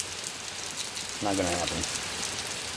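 Steady rain patters outdoors at night in a survival campsite, a broadband continuous hiss throughout, with a voice speaking briefly in the middle.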